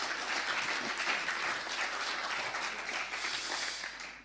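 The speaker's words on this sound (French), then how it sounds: "on peut applaudir les services de GEM aussi." Applause from a conference audience at a digital transformation event, a dense steady clapping that fills the room for several seconds and thins slightly toward the end, with no talk over it.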